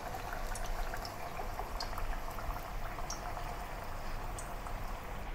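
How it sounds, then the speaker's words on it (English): Pumpkin pieces fry in a single layer in hot oil in a wok for a Malaysian Chinese salted egg yolk dish, giving a steady, dense bubbling sizzle with fine crackles throughout, close and unaccompanied by speech. "and then fry the pumpkin single layer"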